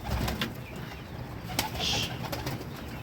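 Basrawi pigeons on a rooftop, soft low cooing, faint and close, mixed with light rustling and a few brief clicks.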